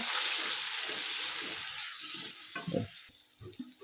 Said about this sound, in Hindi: टमाटर डालने के बाद इसको अच्छी तरह हिलाएंगे ज़रा।